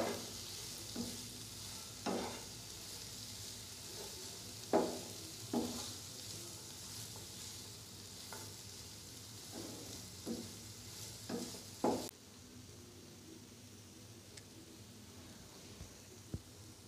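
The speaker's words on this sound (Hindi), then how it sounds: "इनको अपने बहुत ज़्यादा कुक नहीं करना बिल्कुल लाइट सा स्टफ़ फ्राई करना है" Chicken fajita pizza topping being lightly stir-fried in a pan, a steady low sizzle under repeated scraping stirs of a spatula roughly every second or two, close and moderately loud, with no talking.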